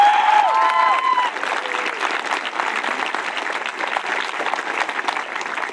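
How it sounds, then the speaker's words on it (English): Graduation audience at a high school ceremony breaks into sustained applause, dense clapping and cheering that starts loud with a few whoops and settles into a steady roar across the hall. "let's give a round of applause for our parents"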